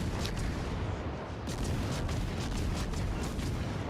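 Naval gun bombardment in World of Warships Legends as teammates pound a Yamato battleship, a thick, continuous rumble of heavy booming fire with sharper blasts bursting through.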